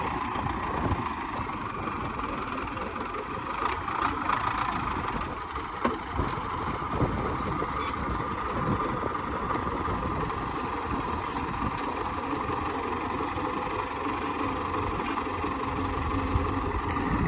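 An old tractor engine idling with a low, continuous rumble and faint clattering, running throughout without pause.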